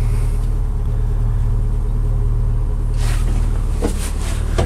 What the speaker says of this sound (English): You hear the muffler purring.